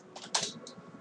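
Typing on a computer keyboard gives a few close, quiet key clicks in quick, uneven succession, one slightly louder tap in the middle.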